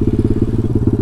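A Taotao DB17 125 motorcycle engine with an upgraded carburetor runs close and loud, with a rapid, rough, pulsing idle-like putter throughout the short burst.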